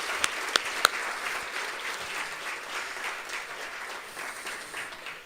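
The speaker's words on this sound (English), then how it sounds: "Can you please clap for Rishikesh and his team?" An audience at a talk on sport as soft power applauding for a team, a steady moderate round of clapping with a few sharp individual claps near the start, fading slightly toward the end.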